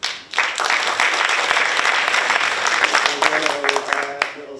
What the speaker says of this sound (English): just want to give our award winners a round of applause.